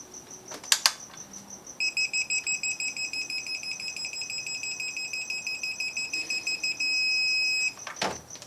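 A steady series of rapid electronic beeps from a digital torque angle wrench tightening bolts on a BMW E9X M3 engine to 70 degrees, pulsing evenly for several seconds, ending in a longer continuous tone, with faint mechanical clicks.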